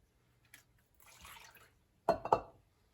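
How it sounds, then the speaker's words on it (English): A cup of milk being poured into a bowl of sourdough starter, a short liquid splash and glug near the end after faint handling noises, close and quiet. "And I'm going to add a cup of milk"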